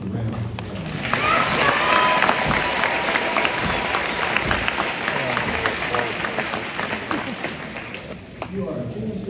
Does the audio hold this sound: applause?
yes